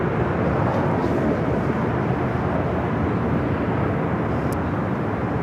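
An Asiana Airlines Airbus A380 taxiing and making a turn at Los Angeles International Airport, heard as a steady, loud, broadband engine roar that holds evenly throughout with no talk.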